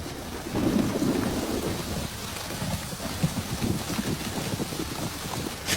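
Heavy rain pours in a dense, continuous hiss with low rolling thunder swelling near the start, loud and close, with no voices over the downpour.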